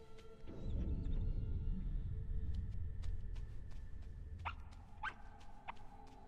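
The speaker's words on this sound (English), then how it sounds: "Yeah, I hear you, bark bark." An animal in the video game Rime gives a few short, sharp barks toward the end, moderately close, after a low rumbling in-game ambience.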